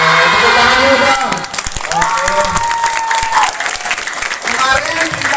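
A youth audience at an Indonesian motivational talk claps loudly and steadily, with crowd noise, cheering voices and music mixed into the applause throughout.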